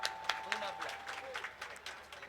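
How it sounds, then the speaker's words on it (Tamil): Audience applause at an outdoor village stage performance of the Valli Thirumanam drama near Alanganallur: a fairly faint, steady patter of scattered clapping with sharper claps standing out, and a thin steady tone running beneath. "ஒரு கைதட்டு கொடுக்கலாம்"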